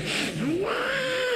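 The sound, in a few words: voice imitating a cat when another cat arrives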